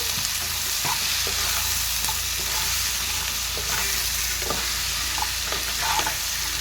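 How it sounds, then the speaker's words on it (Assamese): Indian beans being stirred in a frying pan, a steady sizzle with soft scraping strokes of the spoon repeating throughout, close and alone with no talking. "এফালৰ পৰা লৰাই দি দিওঁ"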